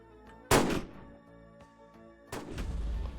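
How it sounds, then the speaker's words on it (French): Two loud, booming sniper rifle shots in a Roblox video game, the first sharp blast with a decaying tail and a second heavy shot after a pause, mixed over in-game music. "j'ai l'impression que c'était un peu fort comme le tir du sniper"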